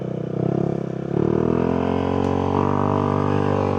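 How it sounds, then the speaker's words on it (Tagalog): A motorcycle engine runs close by, idling with a steady throb and then revving up slightly into a higher, sustained hum. "Naririnig nyo ba yung makina ko guys?"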